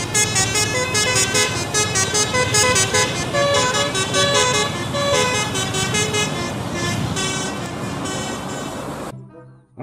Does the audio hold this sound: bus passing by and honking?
yes